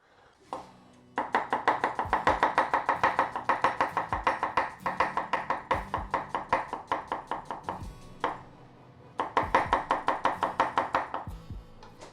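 Onion sliced into thin strips with a knife on a board, dense rapid chopping strokes in long steady runs with brief pauses between bursts, close and loud with no talk.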